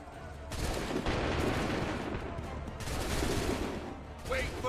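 A volley of musket fire from a line of soldiers in Assassin's Creed 3, a dense crackling fusillade of overlapping shots rolling on for several seconds at moderate distance, with shouted voices.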